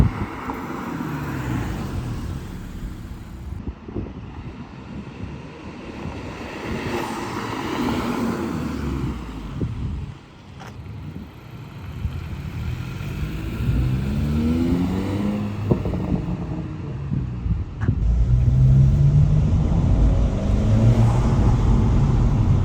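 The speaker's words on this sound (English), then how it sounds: "start it up, get some shots from the inside of the car and from the outside so you can hear what it sounds" An 11th-generation Honda Civic Si engine with a PRL Stage 1 intake idles and revs repeatedly, the pitch climbing and falling as it accelerates, with a steady rumbling drone throughout.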